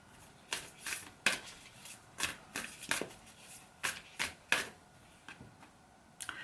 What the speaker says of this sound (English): I shuffled the cards twice